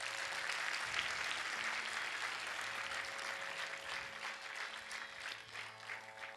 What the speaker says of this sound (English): And one round of applause to all these children before they start.